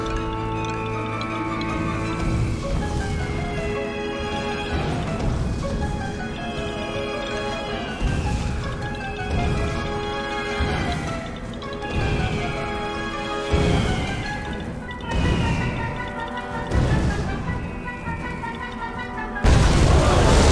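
Missiles fired by the Lord in the game Puppeteer land as a steady run of heavy booming impacts, about one every couple of seconds, over loud, continuous orchestral music, with a sharper crash at the close.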